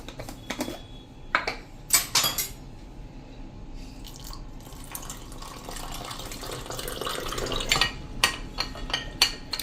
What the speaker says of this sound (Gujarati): આવી રીતે મિક્સ કરી લેવાનું થોડુંક પાણી નાખીને